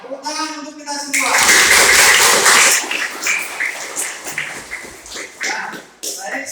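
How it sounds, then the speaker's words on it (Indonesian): Children in an Indonesian school group clapping together in a loud, dense burst of applause that tapers off, with a voice speaking before it starts. "Tepuk tangan untuk kita semua."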